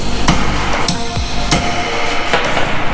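A sledgehammer strikes a wheel stud on an Infiniti G20 hub, giving several sharp metallic clanks at close range, spaced unevenly over a few seconds.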